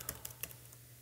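A computer keyboard is typed on while code is entered: a few quiet, separate key clicks, roughly three, spaced irregularly against a low background hum.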